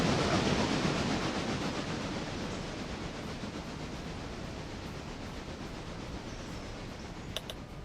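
A steam locomotive rolls along the rails in RailRoader, a steady broadband rumble and rush that fades slightly over time, with a couple of faint metallic clicks near the end.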